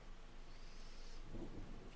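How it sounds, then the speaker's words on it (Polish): A thunderstorm with rain in the Farming Simulator 25 game during a March planting session: steady heavy rain hiss fills the clip while a low thunder rumble swells in the second half, with no talk. "w marcu burza, no to taki, taki nietypowy przypadek"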